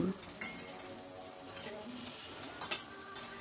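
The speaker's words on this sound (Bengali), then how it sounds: "অনবরত নেড়ে নেড়ে ডিমটাকে খুব ভালো করে ভেজে নিতে হবে" Egg is stirred constantly and fried in a pan over a medium-high gas flame, giving a quiet sizzle broken by occasional spatula scrapes and taps against the pan.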